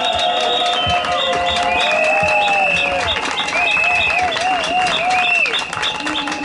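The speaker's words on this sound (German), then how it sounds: "Einen donnernden Applaus." Loud, sustained applause from a large audience at an event in Karlsruhe, honoring a rabbi, with crowd noise and some whistling or high tones running steadily through the whole stretch.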